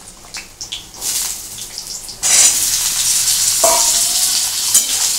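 Chopped potatoes drop into hot oil in a pan and a loud, steady frying sizzle bursts up and keeps going, preceded by a few soft clinks and shuffles.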